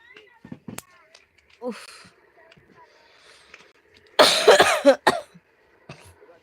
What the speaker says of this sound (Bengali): প্রচন্ড কাশি কদিন জ্বর